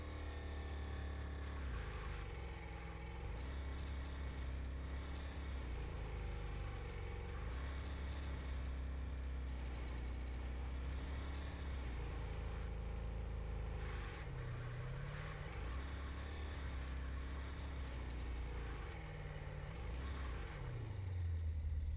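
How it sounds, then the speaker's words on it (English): A repaired car's exhaust in a garage video game, the engine droning and revving steadily with rising and falling pitch sweeps, loud and continuous throughout without talk. "We're just making sure the exhaust sounds good after we repaired it."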